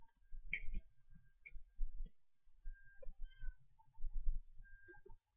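Minecraft cat meowing in a village during gameplay: a couple of short, high meows come and go among soft clicks and thuds from the game, all fairly quiet.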